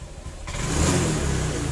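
A Honda Vario 125 injection scooter engine idles, then its revs rise sharply and hold as a loud, close, droning roar, with no talk.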